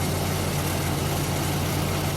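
A 1995 Jeep Cherokee engine held at a steady 2000 rpm during a cooling system flush, a loud, constant low drone with no variation, close by and with no talking.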